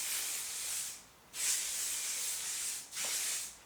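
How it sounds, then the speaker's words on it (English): Three bursts of Joico Power Spray hairspray from an aerosol can, each a steady bright hiss lasting about a second, close by with brief gaps between them and no talking. "Joico Power Spray 8 through 10."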